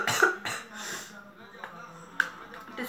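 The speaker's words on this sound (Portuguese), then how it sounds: "Desculpa pela tosse." A single person coughs and clears the throat, a couple of short rough bursts close to the microphone, with quieter breathy noise between them.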